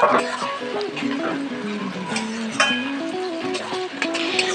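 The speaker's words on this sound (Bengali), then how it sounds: "একটু নাড়াচাড়া করে মেটে আর আলুটাকে ভেজে নেব" Liver and potato pieces fry in a pan while being stirred, a steady sizzle broken by the scrape and clink of the spoon against the pan, with faint tonal sound in the background.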